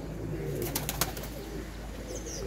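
A pair of pigeons coo softly in low, throaty murmurs nearby, with a few sharp clicks and flutters in between and no one speaking.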